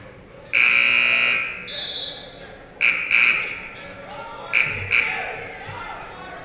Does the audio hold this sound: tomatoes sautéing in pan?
no